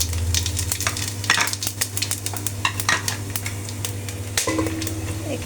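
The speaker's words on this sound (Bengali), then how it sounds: "গোটা মশলাগুলো দিয়ে দিব।" Whole spices crackle and spit in hot oil in a wok, with busy popping and sizzling over a low steady hum and a few metallic stirring clinks near the end.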